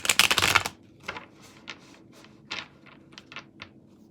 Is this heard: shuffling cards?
yes